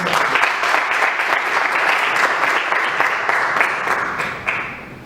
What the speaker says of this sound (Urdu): آئیے ہم تالیاں بجا کے